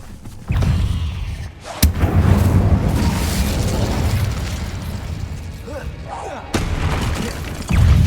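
Incendio fire spell cast in a Harry Potter video game, a loud whooshing burst with a sharp crack near the two-second mark, then a sustained roaring rush of flame that ebbs and swells again near the end.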